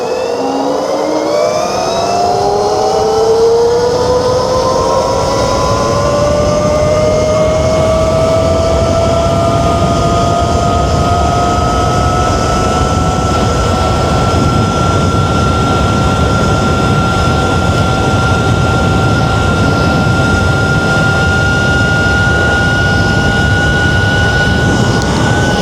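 An EM-23 RC car with a Sotion FW21 motor runs continuously, its loud whine climbing steadily in pitch at first and then holding high and even as the car speeds along.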